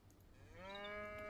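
A cow moos once in a Nomad Wars 3 strategy game match, a single rising, drawn-out low call that swells and holds, heard alone and fairly close.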